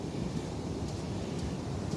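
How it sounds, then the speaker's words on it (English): Steady gusting wind buffets the microphone at Mudjimba beach after rain, a constant low roar and rush with possible surf mixed in, with no pauses. "I'm not sure how much this wind's affecting this call."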